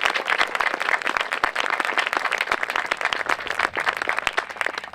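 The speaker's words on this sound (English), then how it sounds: "Could we give them a nice round of applause?" A crowd at an Auburn High School groundbreaking ceremony gives a round of applause, dense overlapping claps with sharp individual hits, steady and moderately loud for the whole stretch, no talk over it.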